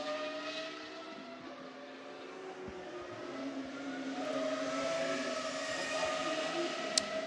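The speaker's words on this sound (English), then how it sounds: "That Praga, the Bohema model coming down to turn 1, getting the braking done, taking the widest line possible." A Praga Bohema race car brakes into turn 1 at the Nürburgring during a GT1 Sports Club session, its engine a sustained mid-distance drone that swells slightly near the end, with no talk over it.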